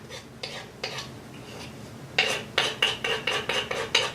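A utensil scrapes cauliflower grits off the inner side of an Instant Pot, first in a few soft strokes, then a quicker run of about eight crisp, rhythmic metallic scrapes close up.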